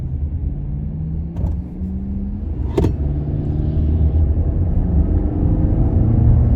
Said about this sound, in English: Doesn't sound too bad for a stock 4-cylinder.